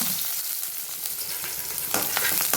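Chopped onions and green chillies sautéing in oil with mustard seeds and urad dal, a steady close sizzle broken by a few crackles and stirring scrapes near the end.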